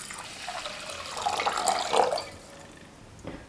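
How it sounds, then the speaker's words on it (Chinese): Clean water pours into a bowl of rinsed rice before steaming for a sweet rice cake, a soft continuous splashing trickle that swells and then eases off, with no talking. "淘洗好的米中我们放入清水，清水的量像平时蒸米饭一样"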